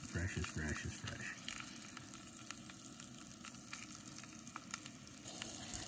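Cornmeal-coated fresh trout sizzles in a frying pan, a steady close crackle of hot oil, with a brief scrape as a piece is flipped near the start.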